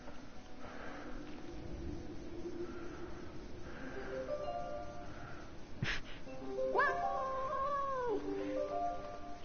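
Within the war video game 11-11: Memories Retold, a cat trapped below ground gives a drawn-out, wavering meow partway through, faint and close, over a low steady background hum with a few quieter cat sounds before it.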